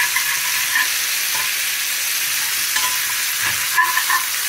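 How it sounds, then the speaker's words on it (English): Meatballs fry in a skillet as a utensil turns them and scrapes them off the pan bottom, with a steady close sizzle and rough stirring scrapes throughout, no voices. "You start turning your meatballs."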